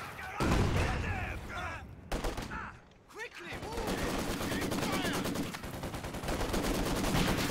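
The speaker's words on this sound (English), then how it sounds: "these guys got a machine gun" Machine gun fire in the World War II strategy game Company of Heroes 2, loud rapid bursts and scattered gunshots crackling almost without a break, with one short lull in the middle.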